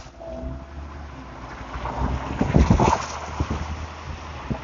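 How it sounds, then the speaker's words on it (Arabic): Outdoor ambience with wind buffeting the microphone and the low rumble of passing traffic, a few louder bursts in the middle. "احنا دلوقتي في مكان مفتوح في صوت عربيات حوالينا، في دوشة، وفي نفس الوقت برضو في هوا"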